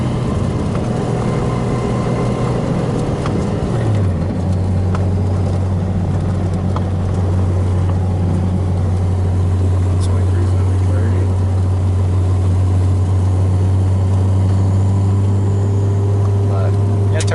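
A Nissan 240SX S13 with a 1JZ swap and 3-inch exhaust idles steadily and fairly loud, a deep continuous drone that drops in pitch early on and then holds, with no talk over it.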